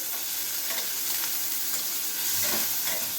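Prawns fry in ghee in a pan with a steady, close sizzle and occasional stirring crackles, and no voices.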